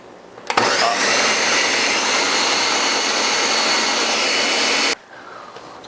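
A countertop blender whirs loudly and steadily for about four seconds while blending a green drink of greens and water, starting abruptly and cutting off sharply, with a brief quiet before and after.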